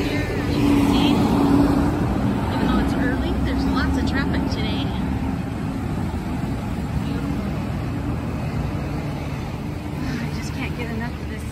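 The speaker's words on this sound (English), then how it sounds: "Over here, as you can see, even though it's early, there's lots of traffic today." Early-morning road traffic on Front Street in Lahaina, Maui, heard as a continuous, moderately loud wash of passing vehicles and engine rumble, with a voice speaking over it.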